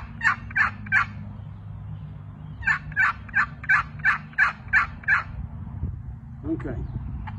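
A wooden box call imitating turkey yelps: two short bursts of raspy, evenly spaced yelps, three and then eight, with a pause between, loud and close over faint background noise.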